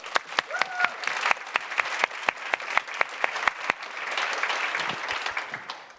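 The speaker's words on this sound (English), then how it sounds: "Please give a round of applause to Jo." Audience applause at a panel session, a steady burst of clapping from a crowd lasting several seconds and slowly thinning toward the end, with sharp individual claps standing out near the front.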